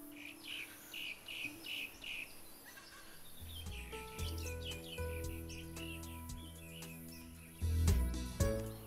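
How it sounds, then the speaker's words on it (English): Honeyeaters of the Melithreptus group calling in Nangawooka Flora Reserve, Australia, on a hot day: a series of short, fairly faint chirps, then a busier mix of calls with insect buzzing beneath. "It's one of the Melithreptus group of honeyeaters"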